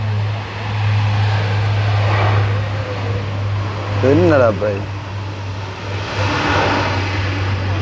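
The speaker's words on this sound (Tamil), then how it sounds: "வந்து பாருங்க அந்த ஃப்ளைட் வந்து எப்படி டேக் ஆஃப் ஆகுதா." An airplane taking off at an airport, its engine roar a steady broad rumble heard from a distance throughout, with someone briefly speaking and a low constant hum underneath.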